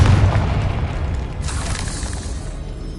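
Confringo fire spell exploding in Hogwarts Legacy, a deep booming blast that rolls out in a long rumbling tail with a brief burst of crackle midway.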